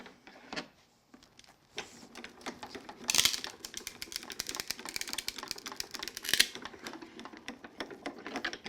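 A die-cutting machine feeds a cutting plate sandwich through its rollers, giving a close, steady mechanical clatter and rumble with a couple of louder clunks along the way.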